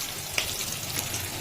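Food frying in a pan in a home kitchen, a soft continuous sizzle with a couple of brief brighter crackles, moderately quiet and without talk.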